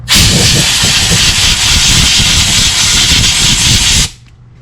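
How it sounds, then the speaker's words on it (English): Compressed air blasts onto freshly cleaned front brake parts of a 2018 Toyota Sienna SE, a loud, close, continuous hiss lasting about four seconds before cutting off abruptly. "Blow them down with air."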